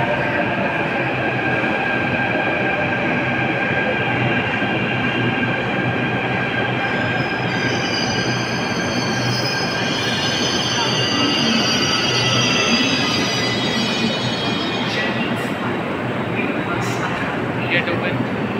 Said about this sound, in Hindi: कश्मीरी गेट के लिए आ गई मेट्रो।